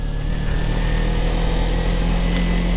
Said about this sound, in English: there goes my boy's bike right there, Nick